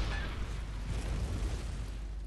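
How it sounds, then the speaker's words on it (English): Cannon fire in the video game Bloodborne, a dense sustained roar of booming blasts that rolls on without a break across the whole stretch, loud and heavy. "this cannon is absolute garbage when you try and use it"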